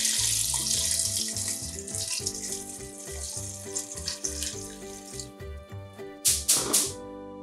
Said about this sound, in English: Now we can put the rest of the water in.